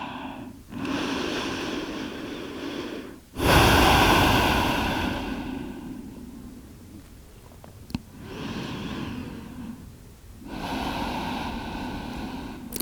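Heavy breathing while resting after exertion in a hatha yoga session: slow, loud, close inhales and exhales in long separate breaths, with a sharp gasping intake near the start and quiet pauses between.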